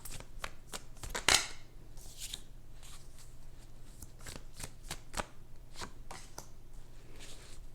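Tarot cards are shuffled and handled in a quick series of crisp snaps and riffles, one loud burst early on, close and quiet with no talking.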